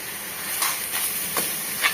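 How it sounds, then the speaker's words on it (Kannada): Boneless chicken cooks in a dry pan without oil, giving off a steady bright hiss and sizzle with a few soft swelling bursts, close up and with no talking. "ಅದನ್ನು ಫ್ರೈ ಆಗ್ಲಿಕ್ಕೆ ಇಟ್ಟಿದ್ದೀನಿ."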